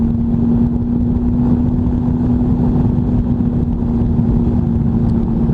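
A Triumph Tiger 800 motorcycle cruises through town with a loud, steady engine drone that holds an even pitch, close and constant, with no talking over it.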